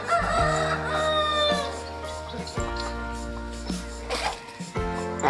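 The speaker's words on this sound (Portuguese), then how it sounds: "Olha ele chamando as galinhas, ó." A rooster crows repeatedly on a rural farm smallholding, calling to the hens, its long harmonic calls loud and close, with other fowl and farm sounds around and a person talking at points.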